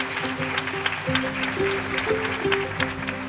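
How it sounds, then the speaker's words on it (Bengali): An audience applauds at a stage awards ceremony, a continuous wash of clapping over music playing in the hall. "একটু জোরে হাততালি দেন।"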